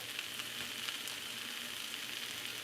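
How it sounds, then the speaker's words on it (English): Sausage sizzles in a hot skillet while it is stirred, a steady close crackling hiss that runs without a break. "I guess I gotta stir a little slower"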